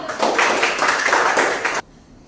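A class of children bursts into rapid, dense hand clapping, loud and close, stopping abruptly after about two seconds.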